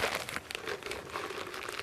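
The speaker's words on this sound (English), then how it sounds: "I like to use newspaper because I can mold it however I want to. And if you kind of crumple it up" Newspaper is crumpled by hand close up, a dense run of crackling, rustling crinkles with uneven bursts of louder crunching, with no voices over it.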